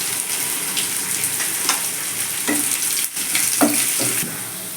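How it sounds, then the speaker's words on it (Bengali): Sliced onions fry in a pan with a half spoon of sugar added, a loud, continuous sizzle close by, broken by repeated scraping strokes of a spatula stirring them. "এবার একটু নেড়ে ছেড়ে এর মধ্যে একটু আমি হাফ চামচ চিনি দিয়ে দেব পেঁয়াজ ভাজার রঙটা তাহলে একটু সুন্দর হবে"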